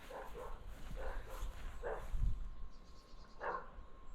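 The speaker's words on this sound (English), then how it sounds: "I can hear dogs." Dogs bark faintly in the distance on a rural property strewn with abandoned Land Rovers, scattered single barks repeating over a steady low rumble of wind.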